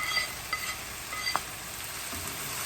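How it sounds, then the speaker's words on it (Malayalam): Onions and tomatoes sauté for beef masala, making a gentle continuous sizzle with light scraping as they are stirred, close and fairly quiet with no voices. "ഉള്ളിയും തക്കാളിയും ഇതുപോലൊന്ന് വഴറ്റി എടുത്തതിന് ശേഷം കണ്ടോ, കളറൊക്കെ കണ്ടോ."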